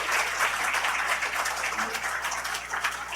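An audience at a Korean good-deed award ceremony applauds the winner, a continuous wash of clapping from many hands filling the room at moderate volume.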